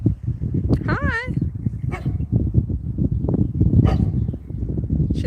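A dog close by gives short yips and whimpering barks, including a rising whine, mixed with a person talking over it.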